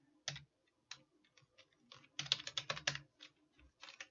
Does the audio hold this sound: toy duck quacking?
no